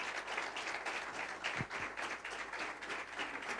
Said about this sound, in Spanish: Le damos un aplauso al Señor por eso